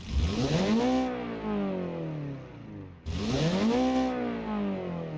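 A Kz-180 JDM sports car engine in the BeamNG driving game revs hard twice, each rise climbing and then easing off in a smooth, loud sweep with no talking over it.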